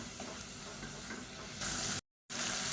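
Onion paste fries in oil for brinjal biryani, making a steady close sizzle that swells brighter and louder near the end and cuts out for a moment before resuming, with no voices.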